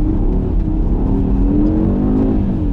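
Audi RSQ3 Sportback 2020 on studded tires driving a small ice circuit, a steady close engine drone with gently rising revs throughout, no talking.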